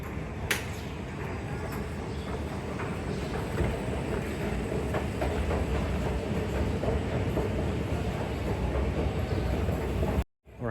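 Singapore MRT metro train on the Downtown Line, a steady loud rumble of wheels and motor running throughout with occasional rattles and clanks, cutting off abruptly near the end.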